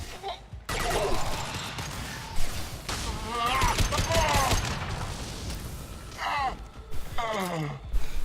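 Gunfire in a Mass Effect 2 firefight against Legionnaires in the Factory District, sounding as bursts and booms among game effects with a voice talking over much of it.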